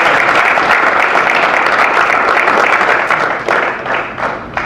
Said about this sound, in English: So I think Dion deserves another round of applause.